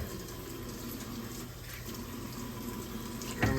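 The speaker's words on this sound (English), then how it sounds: "A little bit more water in there and get all that stock out of there." Water runs steadily from a tap into a cooking pot while making smothered brisket stock, a faint continuous stream with a brief splash at the end.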